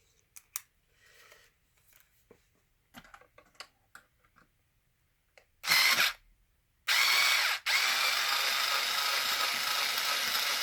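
Power driver with an extension unscrewing 2.5 mm bolts from the rear bulkhead of an E-Revo RC truck, a brief whir, then two sustained close whines after some small handling clicks.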